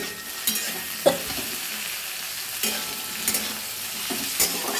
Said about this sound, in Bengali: এই সবজিগুলো নেড়ে নিচ্ছি একটুখানি ভাজা ভাজা করে